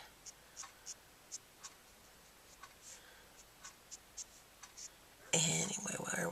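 Copic marker strokes on paper while colouring blonde hair in an illustration, heard as soft, rhythmic scratchy swipes repeating close to the microphone, followed by a person speaking.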